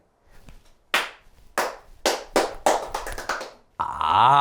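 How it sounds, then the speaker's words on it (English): Several single hand claps from a group in a meeting-room exercise, six sharp claps spaced about half a second apart, then a sustained burst of noise at the end. "every time my hands cross like this, you're going to clap"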